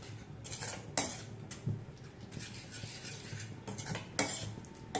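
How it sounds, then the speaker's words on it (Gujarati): A spoon scrapes and clinks in a pan of cheesy pink-sauce pasta with milk added, giving irregular stirring strokes, sharp metallic taps and a soft background sizzle close by. "દૂધ સાથે બધી જ વસ્તુઓને મિક્સ કરી દઈશું"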